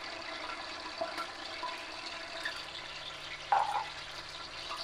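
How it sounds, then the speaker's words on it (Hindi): Mashed onions (four large) going into hot oil in a pan for chicken white korma, giving a steady broadband sizzle with a brief louder burst near the end, no talk. "ये मेरा ऑयल गर्म हो गया। मैं सबसे पहले ये मैंने 4 प्याज दिए हैं बड़े अदद।"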